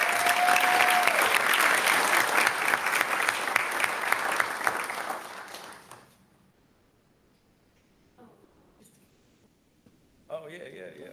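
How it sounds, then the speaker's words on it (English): Applause for a coach fills a school board meeting room, a dense steady clatter of many hands for about five seconds before fading out, followed by quiet with a few small knocks and a brief voice. "maybe one more round of applause"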